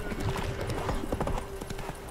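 Roach, the horse in the video game Witcher 3, clip-clops along in a quick, close, irregular rhythm of hoof strikes over a low ambient background.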